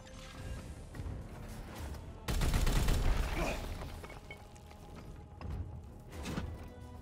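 Gunfire in Warhammer 40k Chaos Gate - Daemonhunters, a dense burst of shots with heavy thuds and mechanical clatter that swells sharply, then eases into a steady rumbling bed with scattered impacts; no one talks.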